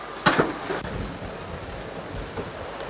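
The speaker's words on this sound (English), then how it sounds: "Is it always windy like this out here?" Wind buffets the microphone in rough gusts, a loud rush near the start then a lower steady blowing with occasional bumps.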